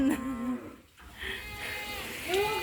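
Cattle and water buffalo in a pen at evening give deep, drawn-out moos, two or three close, loud calls in quick succession.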